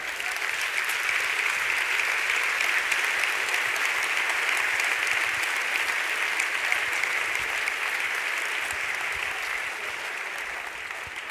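Sustained audience applause at the Premio Terzani 2023 award event, a dense, steady wash of clapping from a large crowd filling the whole stretch and tapering only slightly at the end.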